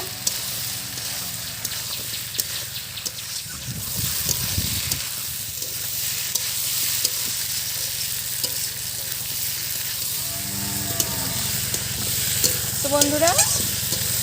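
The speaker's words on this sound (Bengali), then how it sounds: "এখন দিয়ে দেব ভেজে রাখা আলু আর পেঁপে।" Fried potato and papaya being stir-fried in spice masala in a pan for a papaya-potato curry, giving a steady loud sizzle with scraping stirs throughout, and a voice talks briefly near the end.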